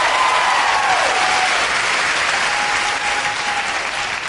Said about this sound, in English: Applaud if you're over 40